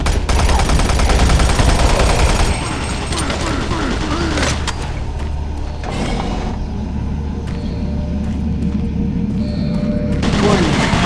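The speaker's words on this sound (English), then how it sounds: "Automated turret guns online." Automated turret guns in DOOM 3 pour out steady, loud automatic fire that overlaps a constant mechanical hum and occasional booms.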